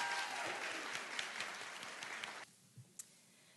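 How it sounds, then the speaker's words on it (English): Applause from the audience at a university education pinning ceremony, dense clapping that thins and then cuts off abruptly partway through, leaving near silence with a couple of faint stray sounds. "Please join me in giving all of the early childhood education educators another"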